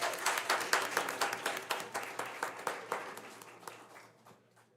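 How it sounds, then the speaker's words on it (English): A school board meeting audience gives a round of applause, the clapping loud at first with distinct claps audible, then thinning and fading toward silence by the end. "Let's give her another round of applause."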